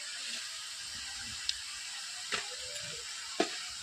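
Meat sizzles in hot oil with turmeric and salt, a steady close hiss under faint scattered ticks and small clinks from the pan.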